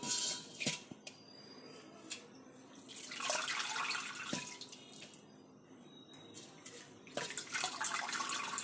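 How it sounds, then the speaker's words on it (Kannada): Water poured into a vessel as grains are washed at home for potato upma, with splashing and swishing in bursts, scattered clinks of utensils and drips between, fairly faint and close. "ನೆಕ್ಸ್ಟ್ 4 ಗ್ಲಾಸ್ ನೀರು ಹಾಕ್ಬಿಟ್ಟು ಮತ್ತೆ ತೊಳಿತಾ ಇದ್ದೀನಿ."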